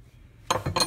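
A metal 7/8 wrench gives a few quick, close clinks as it is handled, after a moment of near silence.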